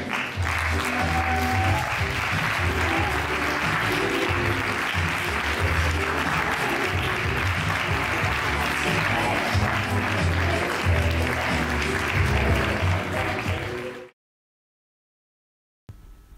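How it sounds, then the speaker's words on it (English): A theatre audience gives sustained applause, a thick, even roar of many hands clapping for about fourteen seconds before it cuts off abruptly into silence. "we'll give you a warm round of applause, ladies and gentlemen, for Luke Rudman, Pseudellusion."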